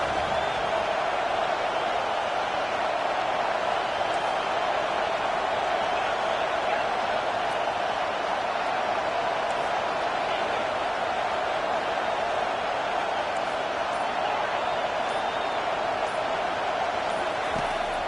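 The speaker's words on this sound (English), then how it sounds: "Decibels rising as the crowd gets behind this defense on 3rd down." Steady, dense roar of a football stadium crowd cheering during a 3rd-down defensive stand, a continuous wash of noise holding at an even level throughout with no clear breaks.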